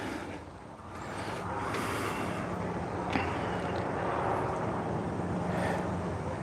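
A farm tractor on a New Zealand farmlet runs as a steady broadband engine rumble, moderately distant, holding an even drone throughout with no clear start.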